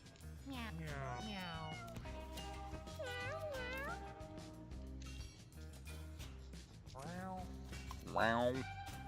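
Cartoonish cat meows from the video game Mewgenics, several rising and falling mews repeating through the stretch with a louder one near the end, heard over game music and a person talking.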